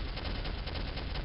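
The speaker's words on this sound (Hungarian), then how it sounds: "Úgy nagyon lövöldöznek." Rapid, dense gunfire from the Soldier of Fortune video game keeps up a steady, loud clatter of overlapping shots for the whole short stretch, with no voices.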